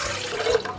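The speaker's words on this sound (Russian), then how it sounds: "Я вливаю воду, я уже ее отмерила" Measured water pours steadily into a planetary mixer bowl set on a scale, for a high-hydration sourdough tartine dough, with a short, close trickling splash.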